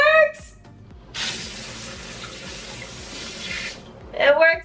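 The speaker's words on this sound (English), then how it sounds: "So the water is fully back on." Water sprays steadily from a newly installed handheld bidet, a broad hiss that starts abruptly and runs for a few seconds before cutting off, with a voice speaking briefly before and after.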